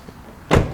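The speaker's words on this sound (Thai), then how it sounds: "นี่นะครับเสียงประตูรถเดิมจากโรงงานเลยนะครับ" Original factory door on a Mitsubishi Pajero SUV shutting once, a single close, solid thump with a brief rattle, loud and near after a quiet moment.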